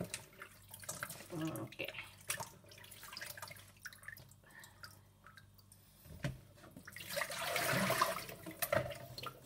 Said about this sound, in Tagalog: Sa sala lang yan, nilalagay lang yan dyan para lumabas yung tubig dyan sa pak choy ko.